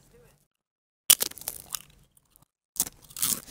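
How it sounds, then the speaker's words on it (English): Loud, close crunching of chips being chewed, two bursts of crisp bites with a silent pause between them. "Sorry if my chewing is very loud."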